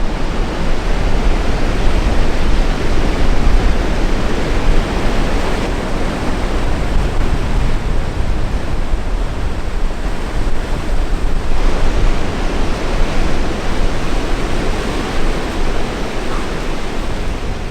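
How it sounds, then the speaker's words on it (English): Ocean waves pound the rocky shore of the Dingle Peninsula in County Kerry, Ireland, producing a loud, continuous roaring wash with surges, close up and with some wind noise, and no voices. "imagine the waves pounding in like that."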